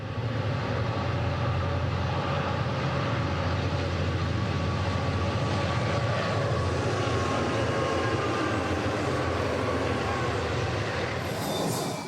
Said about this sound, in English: Train Number 1, the westbound San Francisco Chief, pops out of the west portal of Tunnel 2